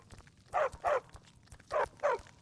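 A dog in the video game Skyrim barks in two pairs of sharp woofs, close and clear over a faint background of footsteps, with no talking.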